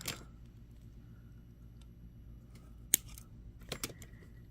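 Small scissors snipping a thread tail on a beaded earring, with a single sharp close snip midway and a couple of light clicks and rustles near the end over quiet room noise.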